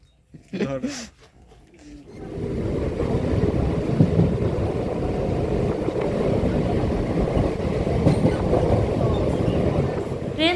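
Someone talks briefly, then a loud, continuous train rumble with rattling takes over and stays steady to the end.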